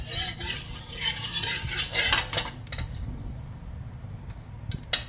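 Oil going into a heated wok over a gas flame while stir-frying Hong Kong kale with squid and shrimp, giving a steady close crackling sizzle with light metallic clinks of utensils against the pan.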